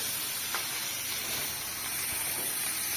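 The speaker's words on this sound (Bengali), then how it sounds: "এবারে মাছটা ভাইজে নিই।" Fish frying in oil in a pan in a Bangladeshi village kitchen, a steady close hiss and sizzle that runs unbroken throughout with no talk.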